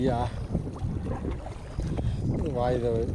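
Wind noise and sea sound around a kayak on the water off the Capricorn Coast, a steady low rumble with light splashing, while someone talks over it throughout.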